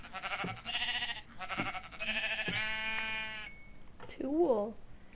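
Sheep in the Minecraft video game bleat several times in a row, nasal wavering cries close up, with a person talking over them.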